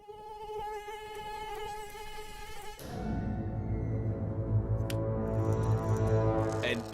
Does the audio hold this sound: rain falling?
no